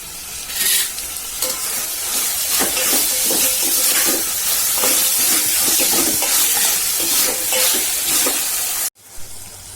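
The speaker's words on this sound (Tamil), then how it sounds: "நல்லா தக்காளி மசிற அளவுக்கு நம்ம ஃப்ரை பண்ணிக்கலாம்." Tomatoes and curry leaves fry in a pan for a kondaikadalai kurma, giving a loud, steady sizzle with scraping stirs. The sizzle cuts off abruptly near the end.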